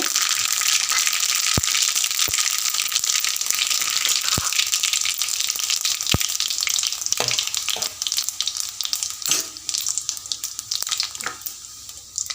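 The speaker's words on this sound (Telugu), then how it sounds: "నాలుగు స్పూన్ల ఆయిల్ పోసుకొని ఆవాలు జీలకర్ర పచ్చిమిరపప్పు" Mustard seeds, cumin and green chillies sizzle steadily in about four spoons of hot oil in a kadai, with sharp pops and crackles and occasional stirring.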